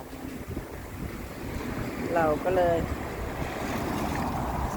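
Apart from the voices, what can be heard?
strong wind outdoors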